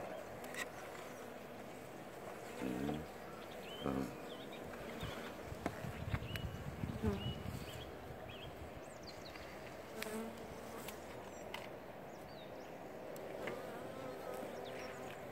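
Honeybees buzzing at a hive that is being readied for spring, a continuous close drone with individual bees whirring past, while a person speaks quietly in short phrases over the hum.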